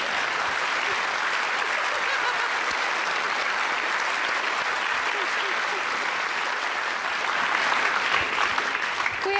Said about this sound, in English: let's let them applaud first